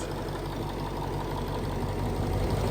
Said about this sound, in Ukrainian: Дуже м'якенько працює двигун, прямо шепче.